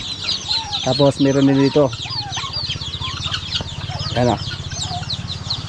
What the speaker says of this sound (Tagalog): Naghalo lang yung sisiyo ng manok at saka sisiyo ng pabo